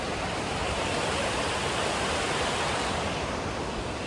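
Clear fresh water flowing at Surmane waterfall near Kalasa, a dense, constant broadband rush of falling and running water, close and steady with no pauses or voices.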